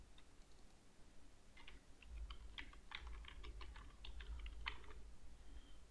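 Faint keyboard typing while entering text in a Google Docs text box, a quick burst of light, close keystrokes over a low steady hum, with no one speaking.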